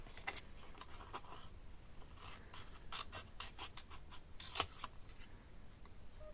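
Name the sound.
cutting a paper message with scissors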